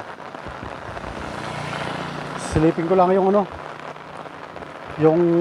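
Heavy rain pours at a memorial park, a steady broadband hiss running the whole time while someone talks over it in short bursts.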